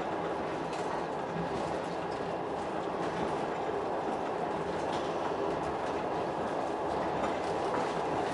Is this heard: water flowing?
no